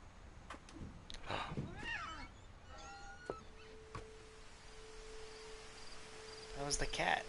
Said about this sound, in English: That was the cat.